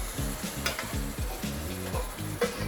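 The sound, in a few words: broth poured onto cooking Paris mushrooms, sizzling and starting to boil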